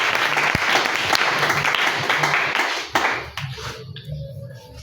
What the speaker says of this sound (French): Bénissons la lecture par nos acclamations.